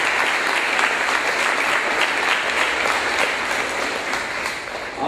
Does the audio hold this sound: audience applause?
yes